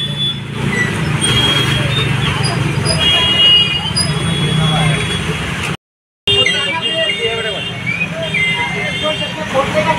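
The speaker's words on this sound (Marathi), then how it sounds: "दहीहंडीमुळे खूप जास्त ट्रॅफिक आहे." Heavy roadway traffic on a day jammed by the Dahi Handi festival: a steady engine-and-tyre rumble with scattered horn toots, heard close and loud under people talking, with a brief cut to silence partway through.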